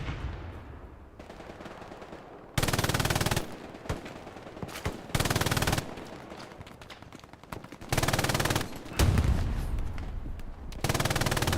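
MG42 machine gun in a World War II battle game firing loud, sustained bursts of several seconds each, separated by short pauses, with other gunfire in between.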